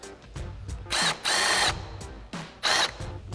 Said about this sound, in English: So we're gonna remove those first with our 10mm socket.